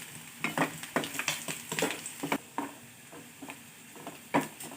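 Onion fries in a pan over medium heat while being stirred, giving quick bursts of scraping and sizzle in uneven clusters, close by and fairly quiet, with calmer frying between strokes.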